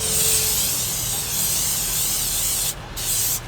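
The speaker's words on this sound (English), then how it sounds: "I'm going to spray the inside of this down with a little cooking oil." A cooking oil spray can hisses continuously and close by, pausing briefly once before the spraying resumes.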